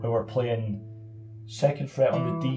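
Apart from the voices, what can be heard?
No everyday noise stands out behind the speech.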